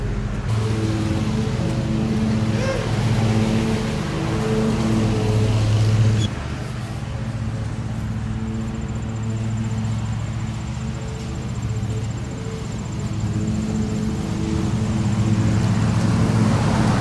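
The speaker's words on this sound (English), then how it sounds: "It's a Ford tractor." A vintage Ford tractor engine runs steadily nearby, a loud, constant low rumbling drone with a slight shift in tone partway through and no pauses.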